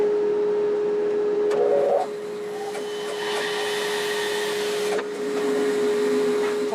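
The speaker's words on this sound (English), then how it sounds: "So now I'm simply going to turn on the dust collector and cut it off." A dust collector runs beside a woodturning lathe while a kitchen canister is being turned, giving a steady, close, vacuum-like whine with a constant tone and slight dips in level.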